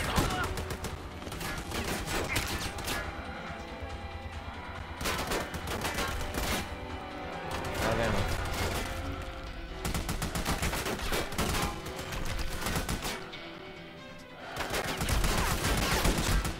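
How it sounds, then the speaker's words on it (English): Enemy gunfire in the co-op shooter Army of Two: sustained, loud bursts of automatic fire and fusillades rattling almost continuously, with brief lulls, mixed with game ambience and occasional voices. "One dude's still kind of shooting at me, though."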